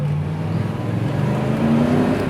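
A 1964 Mercury Comet Cyclone pulls under acceleration from inside the cabin, its engine rumble steady and moderately loud, rising slightly in pitch toward the end with no talking.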